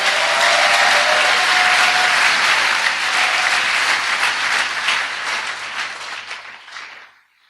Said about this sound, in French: J'aimerais qu'on acclame la parole de Dieu.